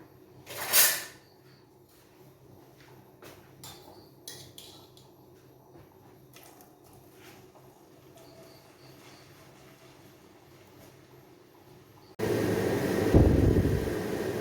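Banana stem pieces for pickle hit hot oil with a loud, steady sizzling hiss near the end, after a stretch of quiet kitchen handling and light clatter.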